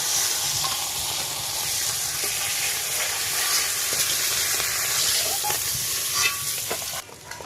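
Fish frying in hot oil in a pan, a steady close sizzling hiss throughout, with a few clinks and shifts near the end as the pieces are lifted out.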